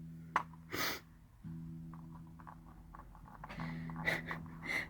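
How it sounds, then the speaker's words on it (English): Sniffling and sharp nasal breaths from someone with a cold, several close short snorts and sniffs over a faint steady low hum. "I have the sniffles"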